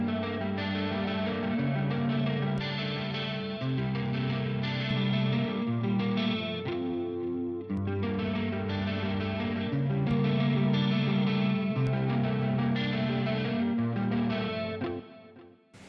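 Electric guitar played through a Jens Bogren impulse-response cabinet strums sustained, effect-laden chords with a chorus-like shimmer. It plays steadily for about sixteen seconds with no talking.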